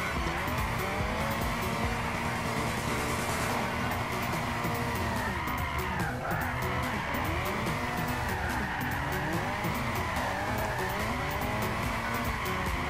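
A RUF race car in Gran Turismo 6 drives with a constant loud engine drone. Tires squeal and skid steadily over it, and the engine pitch wavers through shifts and cornering across the whole run.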